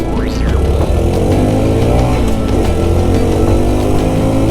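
A 2021 Honda Trail 125 motorcycle engine runs at full throttle on a city ride, a loud, steady, close-up drone whose pitch climbs slightly as it pulls.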